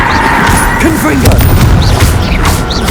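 Confringo blasting curse in Hogwarts Legacy bursts with a loud, rumbling boom amid crackling impacts and short chirping whooshes, while a voice talks over the blasts.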